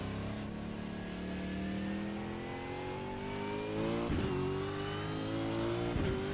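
A video game race car engine, a Mustang in iRacing, revs up steadily, its pitch rising, then drops briefly at two gear shifts before climbing again, loud and close.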